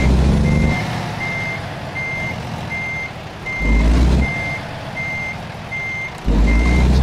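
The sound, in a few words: truck reversing beeps in video game American Truck Simulator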